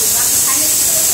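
A pressure cooker cooking rice vents steam with a loud, steady, close hiss that fills the whole moment without a break.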